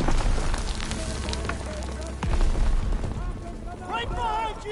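Explosions and battle noise in a World War 2 video game, with a heavy blast partway through amid constant rumbling gunfire, while soldiers shout orders over the chaos.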